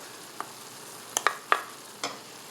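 Scallions and green onion tossed into a sizzling beef and broccoli stir-fry, giving a few separate sharp crackling pops and splatters over a quiet pan hiss.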